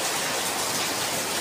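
Heavy rain pours down in a dense, steady hiss that fills the clip without a break, loud and close, with no voices.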